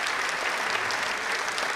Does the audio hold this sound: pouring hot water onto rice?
no